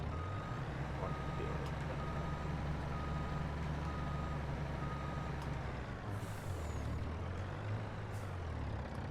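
Lorry reversing beeps and a hiss of air brakes in Farming Simulator 22, heard over a steady low heavy-engine rumble that runs loud and continuous throughout, with a brief hiss near the end.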